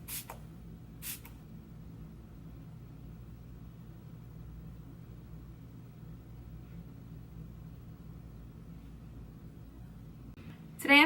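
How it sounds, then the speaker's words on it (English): Two short hissing bursts of Fix Plus setting spray misting close by, then a long quiet low hum, with another brief spray hiss at the very end. "I'm going to spray it with a little Fix Plus"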